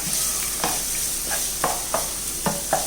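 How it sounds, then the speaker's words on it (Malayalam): Chopped onion sautéing in a pan, a continuous hiss of frying broken by regular scraping strokes of a spoon as it is stirred, close and steady with no talking. "ഇത് നമുക്ക് നല്ലതുപോലെ ഇളക്കി സവാള ഒന്ന് ലൈറ്റ് ബ്രൗൺ നിറമാകുന്നവരെ ഒന്ന് മൂപ്പിച്ചെടുക്കാം."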